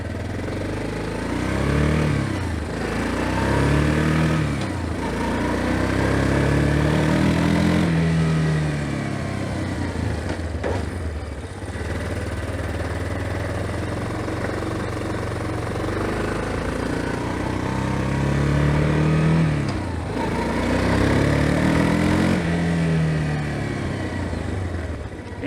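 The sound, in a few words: Yamaha Big Bear ATV engine running while riding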